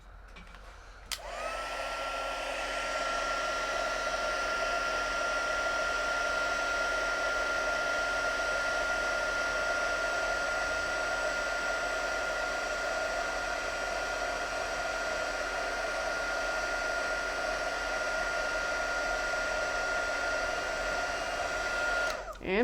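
A heat gun blows hot air onto embossing powder on a birthday card, switching on with a click into a steady, close whirring roar that runs for about twenty seconds before cutting off.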